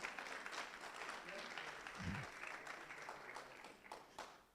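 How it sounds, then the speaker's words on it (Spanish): A congregation at a church vigil applauds in a faint, steady wash of clapping, with a voice briefly rising over it midway. "dale ese fuerte aplauso al Señor"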